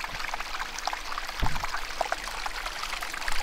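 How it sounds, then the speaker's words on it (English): Small waterfalls in a creek at a clear bush swimming hole make a continuous, gentle trickling and splashing stream, heard fairly close with no voices. "Those little waterfalls."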